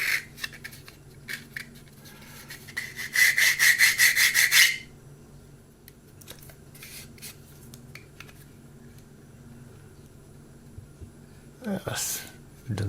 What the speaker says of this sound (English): I'm going to give this area a bit of a going over with the sanding stick